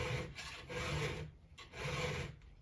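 Round file drawn across a Stihl 462 chainsaw chain, two distinct rasping strokes with a short pause between, close and crisp, no speech.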